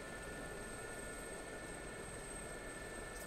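Steady broadband rotor and turbine roar of a Gazelle helicopter in the DCS flight simulator, constant and loud with a high whine on top, no voices.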